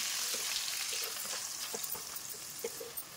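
Onions sizzling steadily in hot oil in a pan with mustard seeds, a continuous bright crackle with a few soft stirring taps, close and fairly quiet, with no voices.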